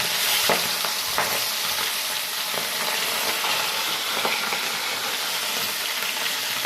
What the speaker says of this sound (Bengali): এই মাছগুলো কড়াইতে দিলাম তেলের ভিতরে।